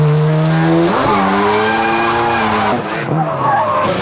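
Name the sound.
drift car skidding tires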